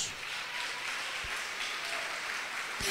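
Church congregation applause fills the whole moment, a dense, steady patter of many hands with no pause.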